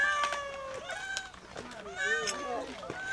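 A cat meows repeatedly in drawn-out, wavering cries across the few seconds, close and fairly loud, with a person speaking Japanese over and between the calls.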